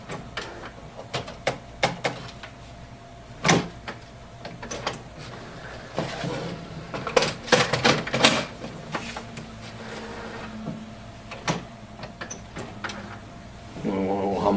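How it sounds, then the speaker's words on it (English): A defective HP Officejet 6700 printer runs through a cycle of irregular mechanical clicks, clunks and whirs, with louder clustered bursts near the middle and a short buzzing feed motion at the end. "I think we have a defective printer here."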